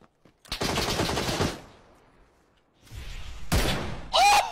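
Rapid automatic gunfire from a first-person shooter video game: a long, loud sustained burst, a quieter gap of scattered shots, then another sharp close burst ending with a high whistling tone.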